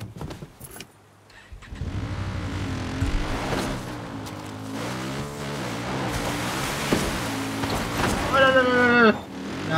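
A motorcycle engine in the video game Far Cry New Dawn runs steadily, its pitch rising and falling as it revs, with a sharp rising whine near the end and a voice talking over it.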